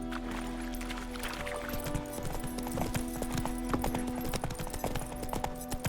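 Roach, Geralt's horse in The Witcher 3, gallops with steady rapid hoofbeats over a droning music bed, the clip-clop loud and continuous throughout with no talking.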